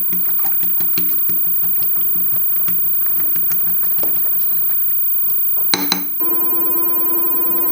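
Eggs for a Korean egg roll are beaten in a bowl with a fast, even clatter of whisking that runs for several seconds, then stops with a sharp clink and a soft ringing tail.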